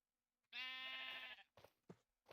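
A single long, nasal bleat from a sheep in a video game, loud and close, followed by a few short soft thumps and shuffles.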